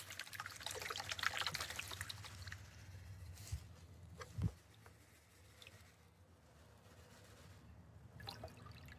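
Water sloshing and trickling in a gold pan as material is panned back at home, a soft, close swirl that fades into quieter dribbles and a few light splashes.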